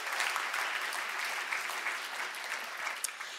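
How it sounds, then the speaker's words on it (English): An audience at an economics conference humor session applauds with dense, steady clapping that fills the whole stretch at an even, moderate level, with no talking over it. "So let's give them a round of applause for that."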